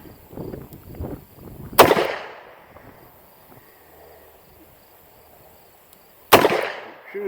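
Two sharp, loud gunshots from a Colt Trooper MK3 magnum revolver fired outdoors, spaced about four seconds apart, each with a quick decaying echo over faint background insects.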